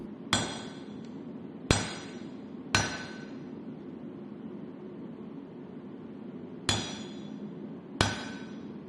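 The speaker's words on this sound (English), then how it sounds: "I'll cut some off on the Hardy tool." Six sharp, ringing hammer strikes at irregular intervals as handle material for a utility knife is cut on a hardy cut-off tool, each blow close and bright with a metallic decay over a quiet background.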